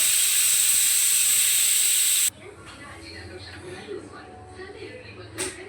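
Steam hisses loudly and steadily from a pressure cooker of drumstick soup as the whistle is pulled off, then cuts out abruptly, leaving quieter kitchen room sound with faint clatter.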